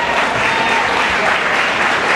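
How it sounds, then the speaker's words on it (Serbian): An audience applauds at a screening of the film Lemon Tree at SKC Novi Sad's Fabrika venue, a thick, even wash of clapping from many people that holds steady throughout. "molim vas još jedan aplauz na podršku"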